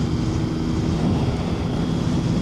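A Triumph motorcycle engine under way on the road, a steady low drone mixed with heavy wind rush, continuous and fairly loud with no talking.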